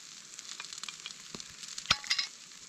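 A seal heart heating in a titanium pot over a campfire gives a soft, steady sizzle, with a couple of brief louder crackles near the end and no voices.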